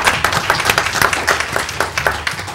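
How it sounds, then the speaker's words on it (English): An audience at a school board meeting claps for an elementary school, a short burst of loud, close, uneven applause with individual claps standing out. "Let's give Herd Mixon a round of applause."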